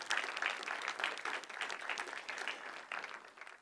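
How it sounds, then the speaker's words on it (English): An audience at a business event applauds as community members are welcomed, with a moderate wash of clapping that swells early and gradually fades, heard from some distance. "please welcome those fantastic people with a big round of applause"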